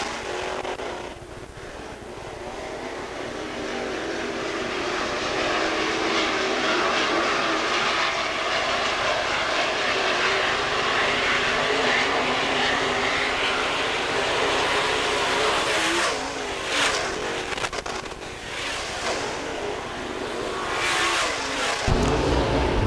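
Modified race cars roar around the dirt oval at Fairmont Raceway during a heat race, a loud continuous engine drone with rising and falling revs and passing cars, with no talk.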